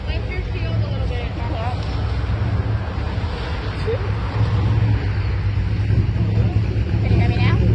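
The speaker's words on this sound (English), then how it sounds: "there's a bunch of cars going by." Street traffic streams past outdoors at a roadside vigil, a steady broad rumble and hiss of passing cars that swells slightly, with voices murmuring underneath.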